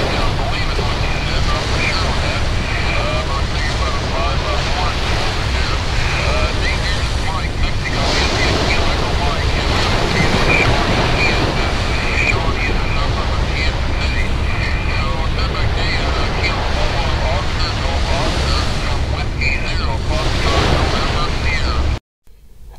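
Steady wind and surf wash over an ocean beach with no break, loud and close, with wind buffeting the microphone throughout.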